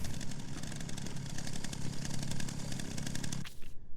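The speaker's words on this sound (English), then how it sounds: "Can't go wrong with a chainsaw." A chainsaw engine runs in Resident Evil Requiem with a steady, buzzing rattle held for several seconds, then it cuts off abruptly.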